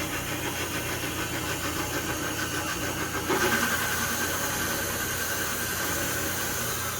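Electric stand mixer with a dough hook kneading pretzel dough, a steady mechanical motor drone with a fast rhythmic churn, growing slightly louder partway through and running on evenly.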